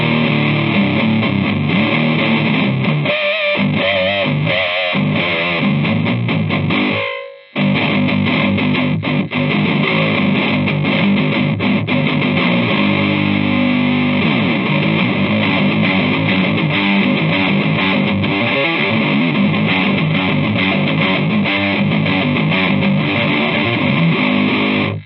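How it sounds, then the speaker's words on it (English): Heavily distorted electric guitar played loud through a Fender Hot Rod amp's own distortion, chords ringing continuously with a brief dropout near the start. "this is the Fender distortion sound we've got running through just using the amp."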